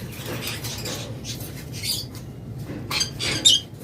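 Several short, sharp squawks and chirps come from caged breeding-pair pet birds (lovebirds, cockatiels, budgies), scattered irregularly over a low background hum, with a brief louder call near the end.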